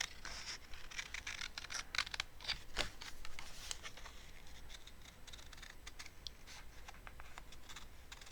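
Scissors snip through paper while a printed image is cut out for a vintage glue book page, giving a steady run of close, crisp rustling cuts with no talk.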